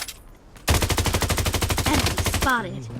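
A 100-round gun fires in the video game Blood Strike as one sustained, rapid automatic burst of about two seconds, loud and close, followed by a short mechanical rattle.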